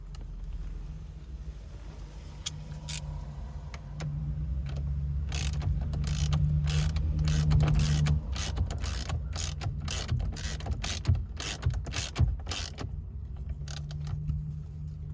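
A ratchet tightens a bolt on an Infiniti G37S steering wheel, giving a long run of rapid, close metallic clicks in a steady rhythm over a low background hum.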